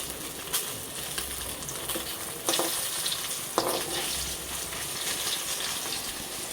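Fish frying in a pan gives a steady, moderately close sizzle with occasional stirring scrapes and brief bursts as pieces are moved.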